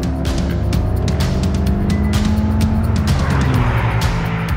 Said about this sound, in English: It's got a lovely punchy turbo engine.